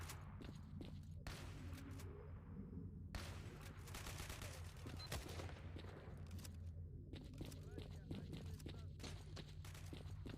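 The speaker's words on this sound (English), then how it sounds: "You shooting at the snipers with a shotgun?" Heavy gunfire from S.T.A.L.K.E.R. Call of Pripyat in Pripyat, including shotgun blasts, booms repeatedly and continuously over a steady low rumble of the game, with people talking over it.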